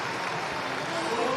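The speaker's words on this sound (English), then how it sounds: "Warmly applauded by a very knowledgeable local crowd." Warm applause from a local crowd after a try at a women's Rugby World Cup match, a steady wash of clapping beneath a commentator's voice.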